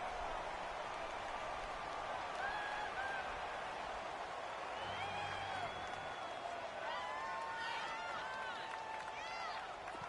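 A football stadium crowd at a Texans game roars steadily and excitedly, with whistles and shouts rising over the dense wall of noise, while a commentator talks over it.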